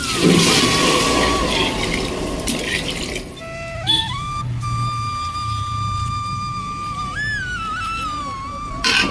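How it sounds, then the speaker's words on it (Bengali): Hot water splashes into spiced lentils in a pot, a loud rushing pour that continues steadily, with a few faint high tones in the background. "দিয়ে দেবো গরম জল"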